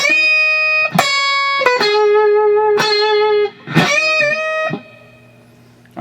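Electric guitar playing the second part of a slow blues solo: a handful of sustained, bent notes with pauses between phrases, clean and close, ending on a fading held note.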